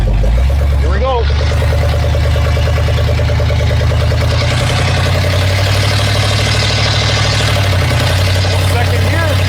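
Barn-find Lincoln engine running while the car drives on the road, a loud low rumble that rises and settles as gears change, with a voice talking over it at times.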